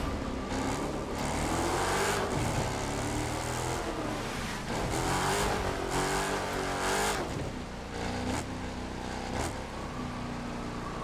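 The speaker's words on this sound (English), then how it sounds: "this car is modified, but I just love drifting it" A modified car in The Crew 2 roars continuously with engine revving and rising-falling pitch as it drifts through turns, loud and close with no talk over it.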